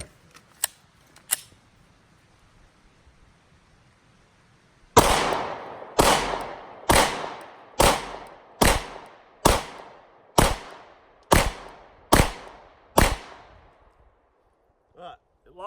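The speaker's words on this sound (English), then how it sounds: "Makes me want to put another 10 rounds through it." Ten sharp, evenly spaced gunshots from a Glock 43X pistol crack out one after another at moderate distance after a few faint clicks, with a brief quiet lull before the string begins.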